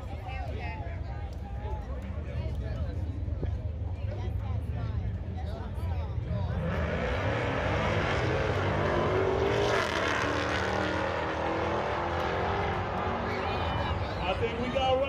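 Scat Pack and Hellcat race cars at Texas Motorplex roar to life partway through, a loud broadband engine surge sustained to the end over a rumbling background, with voices faintly present.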